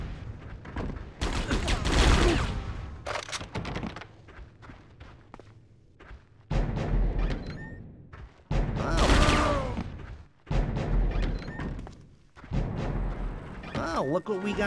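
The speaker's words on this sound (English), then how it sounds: "This high-powered assault rifle." Bursts of high-powered assault rifle fire in Die Hard: Vendetta come in several loud, dense volleys separated by short gaps, with footsteps and other game sounds between them.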